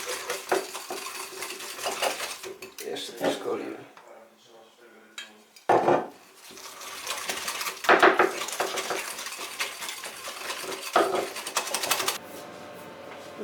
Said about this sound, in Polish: I mieszamy naszą marynatę.